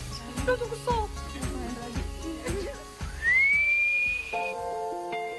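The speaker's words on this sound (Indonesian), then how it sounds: "Meski memiliki siulan yang sama persis, tapi hanya kepada pawang ini saja monyet-monyet ini nurut." A handler in the forests of South Sulawesi whistles to summon a troop of macaques, giving several short pitched calls followed by a long, rising sustained whistle, close and clear, with voices around.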